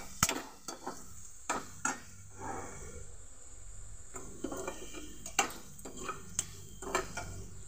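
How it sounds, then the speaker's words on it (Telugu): Food frying in a pan while a spoon stirs it, with a steady sizzle under repeated sharp scrapes and clinks of utensil on metal, heard alone and close. "కొంచెం ఇలా ఫ్రై చేసుకుందాం"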